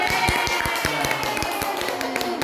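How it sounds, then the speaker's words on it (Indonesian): Scattered hand claps from a small group in a school staff session, sharp and uneven rather than a full ovation, close by with a faint voice in the background. "Kita tepuk tangan dong buat Pak Ibang."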